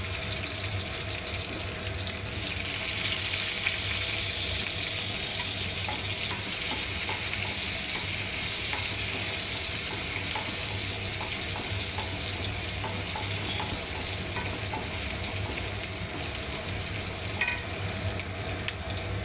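Garlic and onion sizzle in hot oil in a pan for a paneer dish, a loud constant hiss and spatter with faint stirring, unbroken throughout.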